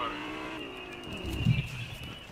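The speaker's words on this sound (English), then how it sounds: "I hear a car" A car engine rises in a low rumble and approaches, growing louder near the middle before easing off, heard in a tense multiplayer game against steady background tones.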